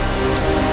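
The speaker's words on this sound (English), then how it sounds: "The rain comes down, the survivors go up." Steady, dense rain pours down during an outdoor survival-show endurance challenge in the Maldives, a continuous hiss of drops hitting surfaces with no talking.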